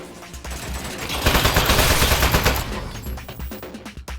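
Rapid automatic turret gunfire in the game Aperture Desk Job, made of loud, fast bursts that swell in the middle and then break into scattered clattering shots, with no talk over it.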